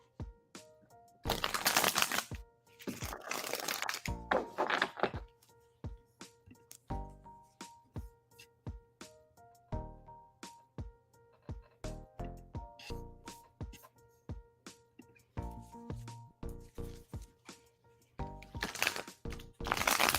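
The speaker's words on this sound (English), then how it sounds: "All right, Terry, I am shuffling for you now." Tarot cards are shuffled by hand in repeated bursts of riffling and slapping, with quick clustered clicks and short pauses between passes, close and fairly quiet, with faint tonal background sounds.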